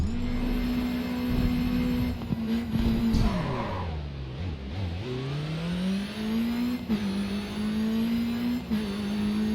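Engine of a truck racing in the video game Grid 2, a loud, steady engine drone that dips as it shifts or slows in the middle, then climbs back up and holds, with no talking over it.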